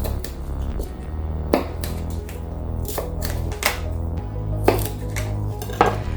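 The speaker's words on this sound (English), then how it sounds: "Celery, cut into small chunks." Celery being cut into small chunks, a series of sharp close knife strikes against a board at an irregular pace over a low background hum.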